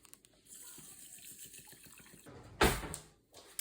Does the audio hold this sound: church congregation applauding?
no